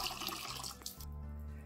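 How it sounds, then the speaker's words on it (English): Filtered water pours into a drinking glass from a tap or filter spout, a steady, close rushing stream that carries on for the whole moment, with no talking. "let me get a gorgeous water glass and fill this wonderful pure water to drink."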